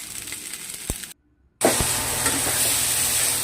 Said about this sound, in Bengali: দেখো আবার নাড়াচাড়া করছি